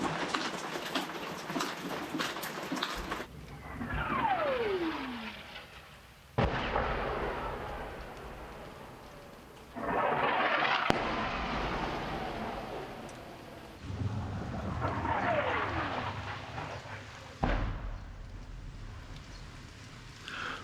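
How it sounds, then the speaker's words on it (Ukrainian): Russian artillery shelling the war-zone town of Siversk, several heavy booms rumbling and echoing at intervals, some with a whistling incoming shell, with birds cooing faintly between impacts. "ось такі артобстріли в Сіверську не змовкають майже ніколи"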